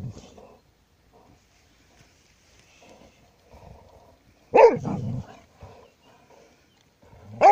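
Dogs at play let out deep, rough, growling barks that resemble big cats, in two short close bursts separated by quiet stretches of faint shuffling.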